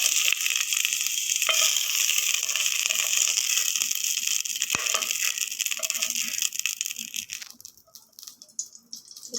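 Two tablespoons of oil sizzling and crackling steadily in a pan on the stove, loud and close for most of the stretch before thinning out toward the end, with no talking.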